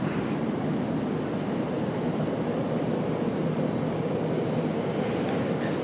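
An American Airlines airliner arriving at Charlotte airport, a broad, constant jet rumble heard from a distance, steady and unbroken throughout with no voices over it.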